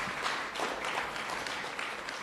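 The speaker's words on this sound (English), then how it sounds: "please, a round of applause again for the Minister of Labour and Social Security" Applause from an audience at a senior citizens week launch, greeting the Minister of Labour and Social Security; a steady, dense wash of clapping that holds at even loudness throughout.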